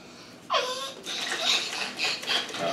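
Colored water sloshing inside a small container as it is shaken at a table, a brief burst of close splashing and swirling that starts abruptly, then continues in uneven pulses.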